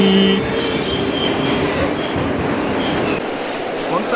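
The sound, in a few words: New York subway L train running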